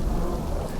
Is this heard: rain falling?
yes